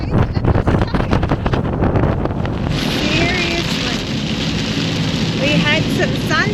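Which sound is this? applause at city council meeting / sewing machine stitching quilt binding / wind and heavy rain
wind and heavy rain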